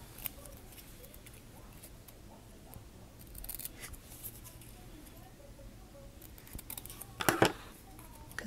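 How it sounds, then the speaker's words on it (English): Scissors snipping paper while trimming a page for a Filofax, quiet and close, with a few faint cuts and a sharper crisp snip near the end against low background hiss. "I'm going to trim this one off a little bit."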